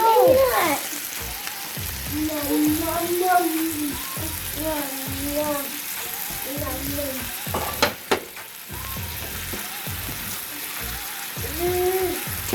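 A steak sears in a hot pan for a medium-rare cook, giving a steady sizzle and crackle throughout, with talk over it and a couple of sharp clanks near the middle.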